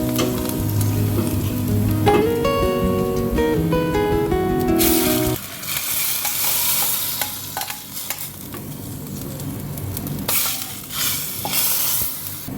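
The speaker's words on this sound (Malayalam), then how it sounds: "നമ്മുടെ വറവിട്ട ഉള്ളിയെ നമുക്ക് മീൻകറിയിലോട്ട് ചേർക്കാം." Fried onions are added and stirred into a simmering prawn curry with drumsticks and kudampuli, giving a sharp sizzle, scraping stirring and a bubbling boil, with background music fading out partway through.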